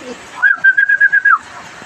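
A pigeon at a racing pigeon loft gives a short cooing call of about six quick pulses, close and clear, with faint background noise.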